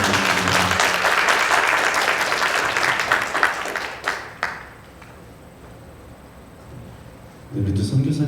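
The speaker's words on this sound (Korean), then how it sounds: "우리 귀한 말씀 전해주신 우리 선교사님께 우리 큰 박수로 함께 부탁드립니다" A church congregation applauds the missionary in a dense round of clapping that thins into a few last claps and quiet, before a voice begins speaking.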